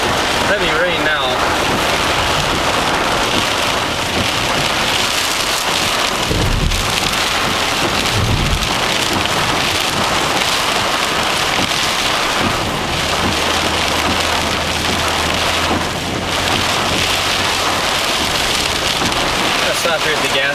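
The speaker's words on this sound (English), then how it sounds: "Heavy rain now." Heavy rain pounds down during a summer storm chase, a dense continuous roar of drops on the vehicle and road, loud and steady throughout, with a low engine-like hum joining near the end.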